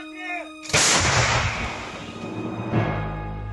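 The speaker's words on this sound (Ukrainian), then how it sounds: "Гармата!" A loud artillery cannon blast erupts after a brief quiet moment, followed by a long rumbling decay and a second low boom as it settles.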